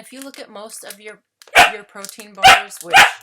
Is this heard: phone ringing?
no